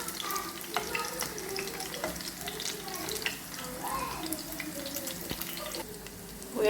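Sausages frying in a pan sizzle steadily, close and moderately quiet, with occasional stirring and clinking and some watery bubbling underneath.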